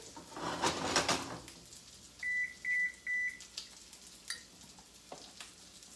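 Sausage and sweet potatoes frying in a pan, a soft steady sizzle with a burst of scraping from a stir near the start, then three short electronic beeps and scattered light clatter.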